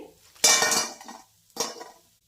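Freshly fried potato vadas lifted from the pan onto a plate, giving two close bursts of metal-on-metal clinks and scraping from a slotted spoon or utensil, with silence between.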